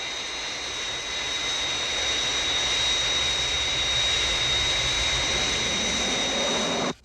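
The Fireflash airliner from Thunderbirds roars in on final approach, its jet engines giving a loud, steady whine and rumble that holds constant and then cuts off abruptly at the end.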